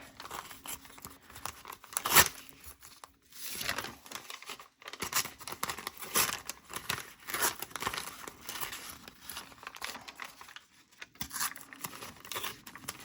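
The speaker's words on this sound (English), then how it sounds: "let's tear the edges" A thick paper lunch bag has its edges torn by hand, with close, intermittent ripping and crinkling bursts separated by short pauses.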